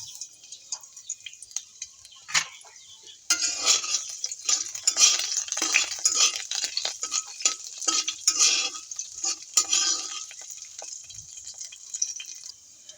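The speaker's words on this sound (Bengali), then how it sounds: "এই গরম তেলের মধ্যে একটুখানি রসুন কুচি আমি দিয়ে দিব" Chopped garlic hits hot oil while a sugar-free green jujube pickle is made, giving a bright hissing sizzle that swells after a few seconds alongside stirring scrapes and clinks, then fades.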